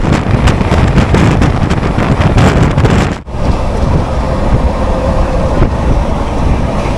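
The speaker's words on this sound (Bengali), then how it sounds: "LHB কোচ ওয়াপ 7 ইঞ্জিন টানছে, তো বুঝতে পারছেন ট্রেনের গতি এখন কেমন" Kriya Yoga Express train with a WAP-7 electric locomotive hauling LHB coaches, heard from inside at speed as a loud continuous rushing rumble with wind noise and rattling wheel clatter, briefly dipping as if passing a structure, then roaring on.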